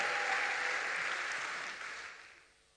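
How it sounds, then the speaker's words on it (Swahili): A church congregation applauds in a sustained burst of clapping that fills the space, then fades toward the end. "ungempigia tena Bwana makofi ya shangwe na vigelegele"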